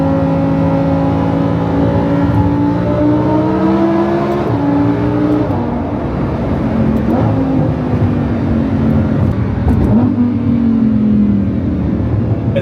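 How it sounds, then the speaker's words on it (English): A supercar accelerates hard through a tunnel with the windows up: loud, rising engine revs with distinct gear-shift drops and reverberant roar, heard from inside the cabin without talk. "We'll do a pull through the tunnel with the windows up"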